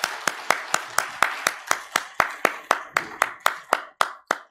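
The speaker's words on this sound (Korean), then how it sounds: "우리 박수로 하나님께 영광을 돌립시다" A church congregation clapping together in praise, giving glory to God, with sharp, evenly spaced claps in a steady rhythm, about sixteen in all, close and fairly loud.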